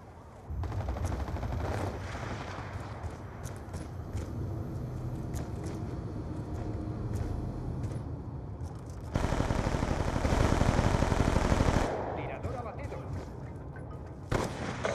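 Video game gunfire: rapid bursts of shots with a heavy, sustained volley in the latter part, set under excited talk between players.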